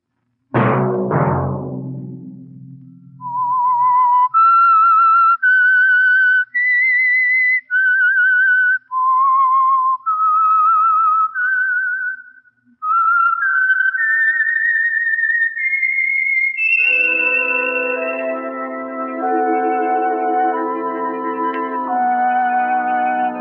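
A lone whistler carries a slow, clear melody note by note, ending with a brighter, richer sustained phrase, loud and close with no talking.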